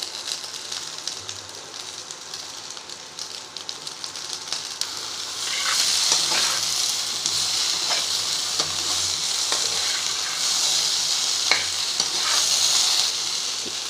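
Okra sizzles steadily in a hot pan with salt, a close, bright frying hiss that swells partway through and continues with occasional stirring knocks and crackles, no talking.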